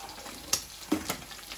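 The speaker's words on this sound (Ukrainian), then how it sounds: "Так що зачекаємо декілька хвилин, поки це смажиться." Soft crackling sizzle of pork fat and bacon frying in a pan, with a couple of sharper pops and scrapes over a steady hiss.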